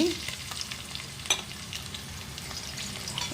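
Garlic, mustard seeds and dry chillies fry in hot oil with a steady bright sizzle, near and continuous, with a brief clink of stirring.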